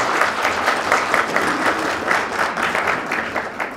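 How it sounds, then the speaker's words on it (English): An audience applauds during a panel discussion event, with dense, steady clapping that runs continuously for a few seconds and holds at an even, full level with no speech over it. "So would you like to give Tashu a round of applause for that?"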